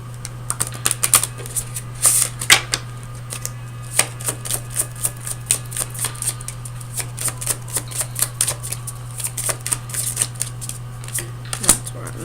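Tarot cards shuffled in quick, crisp riffling bursts that repeat steadily close by over a constant low electrical hum, with no talking.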